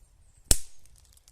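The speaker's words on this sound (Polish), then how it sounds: "No, strzela jak diabełek" A single diabełek firecracker bangs sharply once, a loud close crack with a short decaying tail, otherwise near silence around it.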